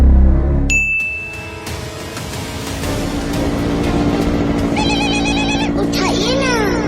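In a Hindi cartoon comedy, a phone rings in electronic chiming bursts over a steady background music bed, with voices talking loudly throughout.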